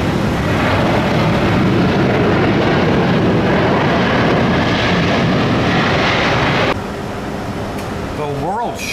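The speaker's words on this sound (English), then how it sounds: "This is a Gulfstream 4 departed Lakeland 10 minutes ago." A Gulfstream IV jet rumbles and roars steadily and loudly, heard as a dense broadband engine and airflow noise that drops slightly in level partway through and continues to the end.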